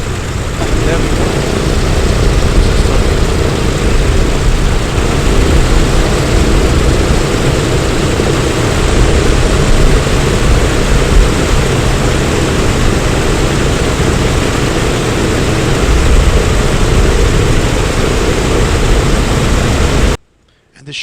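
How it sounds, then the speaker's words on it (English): Four radial piston engines of a PMDG DC-6 airliner in Microsoft Flight Simulator, droning loud and steady with a rumbling propeller roar that holds throughout, then cuts out abruptly at the end. "the sheer sight of these four engines starting up, in sequence, is lovely"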